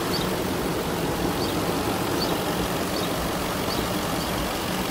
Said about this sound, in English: It is a smooth, very smooth running engine too.